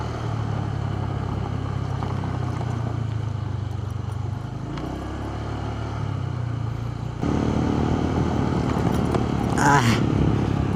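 A motorcycle rides over a rough, rocky road, its steady engine drone and rattling clatter close and loud throughout, growing harsher in the final seconds.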